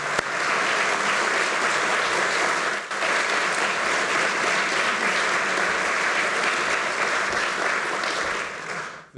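Audience at a Charlottesville spring social applauds the Virginia Athletics Foundation staff, a steady, dense round of clapping lasting about nine seconds with a brief dip near the three-second mark.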